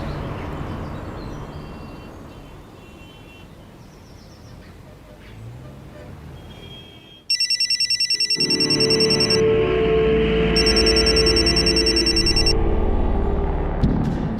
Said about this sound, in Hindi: शायद सचिन को फोन करना पड़ेगा।